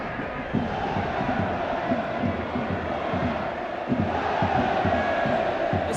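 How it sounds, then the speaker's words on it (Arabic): Football fans at Zakho International Stadium in Iraq, during a Stars League match between Zakho and Al-Talaba, chant in a loud, rhythmic, pulsing roar that fills the whole stretch. "اسمع صيحات الجماهير"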